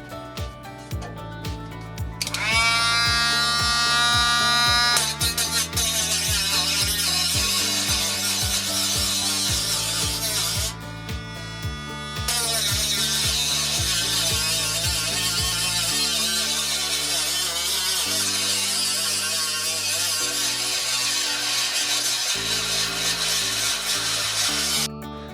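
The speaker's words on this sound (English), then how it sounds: "it's just me going up and down with the Dremel" A Dremel rotary tool cuts metal on an old Antec Six Hundred PC case, a shrill grinding whine that rises and falls as it works along the line. It is close and loud, with a brief pause partway through and no talking.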